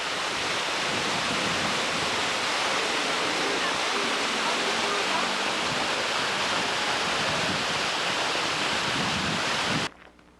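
Rushing stream water flows loud and steady at a gold-panning spot near Colorado Springs, a dense broadband roar that fills the whole stretch before cutting off abruptly near the end.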